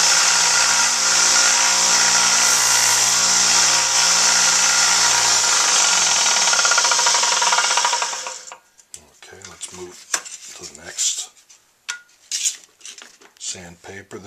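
Belt sander shaping a handmade tenor sax mouthpiece: a loud, steady high-pitched grinding whine runs for about eight seconds, then stops, leaving scattered clicks and handling noises.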